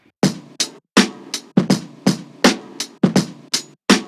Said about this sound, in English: So here are the drums I chopped.